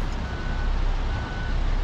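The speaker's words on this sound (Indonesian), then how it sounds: "Alarm." Truck reversing alarm in a truck-driving video game, Trucker of Europe 3, a steady repeating electronic beep over the low rumble of the truck's engine, loud and close.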